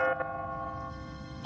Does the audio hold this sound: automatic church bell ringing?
yes